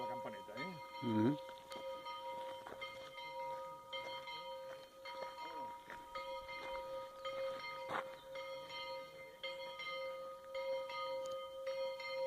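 A small bell rings out on a hiking trail in the Desert de les Palmes, its sustained tone steady and clear over outdoor ambience and nearby voices.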